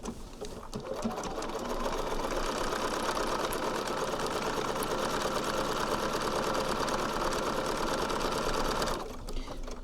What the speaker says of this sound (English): So now I'm going to stitch all the way around from that mark that I made.